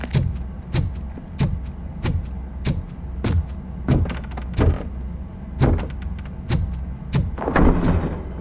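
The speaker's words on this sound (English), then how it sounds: "Now let me get that door open for you." Mechanical door in a RoboCop video game sliding open, a run of heavy rhythmic thumps and clanks repeating about every half second, loud and close with no talk.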